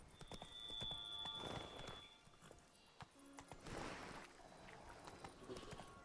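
Roach, a horse in The Witcher 3, trots along with a steady clip-clop of hooves, close and fairly quiet, mixed with a brief whinny and scuffling movement.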